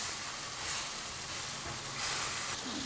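Apples sizzling in a hot pan after the heat is turned off, a bright, continuous frying hiss close by with small swells and crackles.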